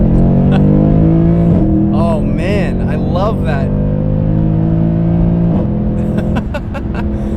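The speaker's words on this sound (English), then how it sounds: "That upshift sound is something else." A Mercedes C63 AMG Black Series accelerates hard from inside the cabin, engine note climbing through gears with sharp pops at each upshift, loud and close while people talk excitedly over it.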